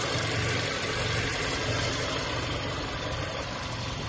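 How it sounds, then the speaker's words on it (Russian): Petrol 2.0-litre engine of a 2018 Hyundai Sonata idling, a steady, even low hum with a faint rhythmic pulse, close and moderately quiet, running alone without talk. "Двигатель работает четко, ровно."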